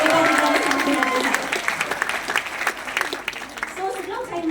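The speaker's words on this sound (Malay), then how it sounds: "Boleh tak tolong bagi tepukan paling gemuruh kepada sahabat saya?" An audience applauds for the founders at a business success event, a steady clapping wash that thins out over a few seconds while talk continues.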